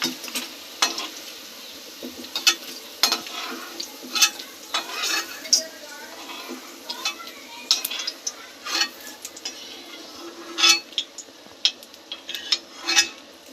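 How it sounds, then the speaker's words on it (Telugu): Okra (lady finger) fries in a pan until brown, a soft continuous sizzle under frequent scraping and clinking strokes of a spatula against the metal pan. "ఇలా బ్రౌన్ కలర్ వచ్చేంత వరకు మంచిగా ఫ్రై చేసి పక్కకు తీయాలండి"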